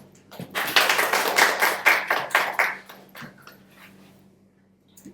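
A burst of applause from an audience, many hands clapping loudly for about two seconds before tapering off into scattered claps and quiet.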